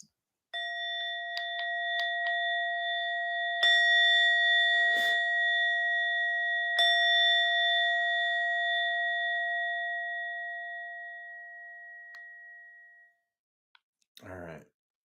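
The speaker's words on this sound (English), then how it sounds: "this is the bell from Insight Timer" A meditation bell tone played from the Insight Timer phone app rings out clearly, then sustains and slowly fades over about twelve seconds, with a few faint clicks and a brief handling noise near the end.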